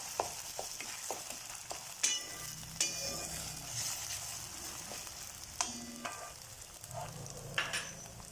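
Ginger-garlic paste frying in a pan for stuffed capsicum gravy, a soft, fairly faint sizzle broken by occasional clinks and scrapes of a spoon stirring, with no voices.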